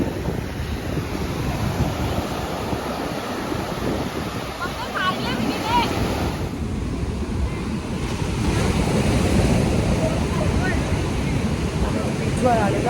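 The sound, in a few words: rough sea waves breaking on beach in Goa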